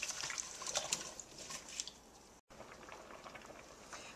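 Pot of butternut squash soup coming to a boil, giving a soft, steady bubbling and hiss with faint pops, close and fairly quiet, broken briefly by one short gap.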